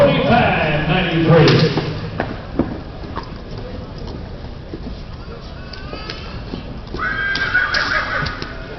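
A horse whinnies loudly at a livestock auction in Topeka, with hooves clopping and thuds in a busy barn. Indoor commotion continues around it.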